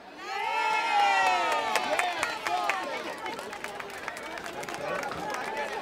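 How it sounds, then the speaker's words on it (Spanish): At a 2018 carnival in Pizarra, a crowd cheers and shouts for a costumed witches' group, loud at first and then settling into scattered claps and excited voices of adults and children. "Un fuerte aplauso para este grupo de brujas reivindicativas."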